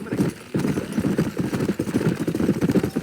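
Horse hooves clip-clop steadily in the video game Red Dead Redemption, a close, even trotting rhythm with a faint engine-like hum beneath it.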